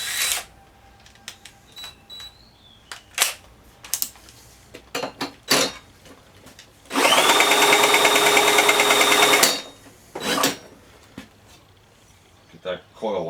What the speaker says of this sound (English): Okay, I'm going to grab my drill.